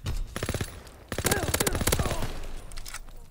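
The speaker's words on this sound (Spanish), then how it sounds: "ves de dónde vienen los disparos" Rapid automatic gunfire in the World War II shooter Call of Duty WW2 crackles in loud bursts, with a brief pause before a second dense volley that tapers into scattered shots.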